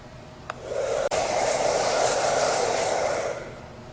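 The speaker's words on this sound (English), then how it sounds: "Okay, I'm drying my aggregate," A hair dryer runs steadily while drying fine aggregate for a lab test, a close, continuous airy whoosh starting after a couple of small clicks and fading slightly at the end.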